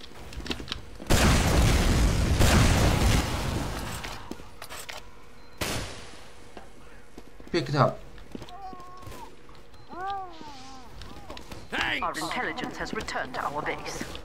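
A loud, booming burst of explosions and gunfire-like blasts in the video game Team Fortress 2, followed by quieter effects and voices talking over the action.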